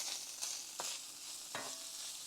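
Ground beef frying in a pan, a soft steady sizzle punctuated by three quick spatula scrapes, close and fairly quiet.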